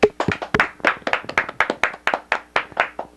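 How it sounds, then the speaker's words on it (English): Brisk applause from the crowd at a 1986 high school baseball game honoring a longtime coach, with dense, sharp handclaps close by and pulsing in a steady rhythm throughout. "Let's give him a round of applause."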